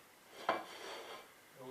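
A plate and fork handled while turning a Spanish omelette (tortilla española) in a pan: one sharp ceramic knock followed by a second of soft scraping and shuffling, close and alone.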